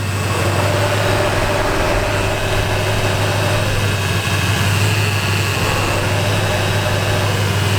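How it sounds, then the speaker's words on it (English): Foxbody Mustang engine idling steadily at close range with its electric cooling fans running, a continuous low hum with a broad whooshing wash of fan noise on top, unchanging throughout. "The car runs good, idling good."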